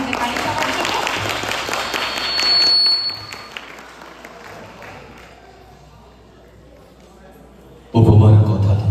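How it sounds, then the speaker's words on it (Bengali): Audience applause at a fashion show, a broad clapping wash with crowd noise under a host's voice, loudest early then fading away, before another loud burst returns near the end. "করতালি দিতে পারি সবার জন্য"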